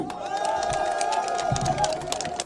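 A large crowd of party activists and supporters cheering at a political rally, a steady wash of voices and shouts with whoops rising over it, sustained and fairly loud throughout.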